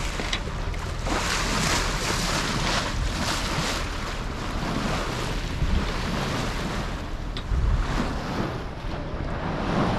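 Water washing and lapping against a sailing boat's hull as it rocks on sea-current ripples on a river in Brittany, France, under steady wind rumble across the mic, with no one talking.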